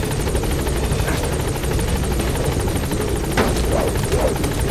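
Helicopter in the video game Metal Gear Solid V: The Phantom Pain, a steady rotor drone with a continuous rapid chop, loud and close throughout, arriving at a landing zone with no voices heard.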